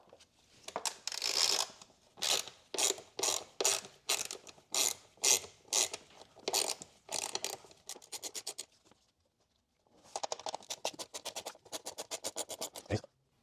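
Torx 20 screwdriver backing out small screws from the airbox of a BMW X7 M50i, giving a close, quiet series of rapid ratcheting clicks in short bursts, a pause, then another run of clicks.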